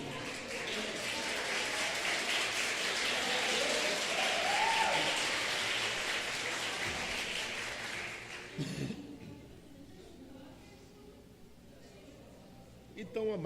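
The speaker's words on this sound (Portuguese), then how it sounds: "aplauda o Senhor pela vida dele" Congregation applause at a Sunday morning church seminar, a broad steady wash of clapping that swells and then fades after about eight seconds, leaving quiet room sound and a few faint knocks.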